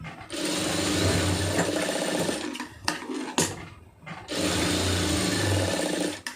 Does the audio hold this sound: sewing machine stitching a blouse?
yes